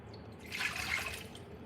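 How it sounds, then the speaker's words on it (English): Plain water pouring into a pot to steam crab, a soft, steady splashing trickle that swells slightly in the middle and stays fairly quiet, with no talking over it. "the first thing I'm gonna put in is just some plain old water."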